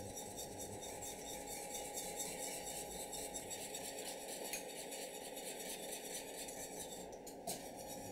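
A whisk beats chocolate pastry cream mixture in a bowl, giving a steady, continuous scraping and clinking of metal against the dish that runs evenly throughout, close and fairly quiet, with no talking.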